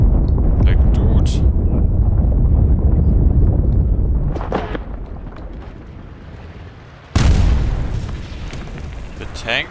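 A tank in a video game fires on a room from outside, giving heavy booming blasts and rumbling that die away, then one sudden loud explosion near the end with wind-like noise.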